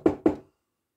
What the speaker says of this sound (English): There was an even louder banging on his front door.